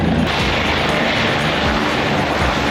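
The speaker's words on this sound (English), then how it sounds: "that right there is why you don't park on that circle right in the middle, because it's actually a helicopter pad" Helicopter at a helicopter pad by Loon Lake Chalet on the Rubicon Trail, a loud, close, continuous roar of engine and rotor with no break.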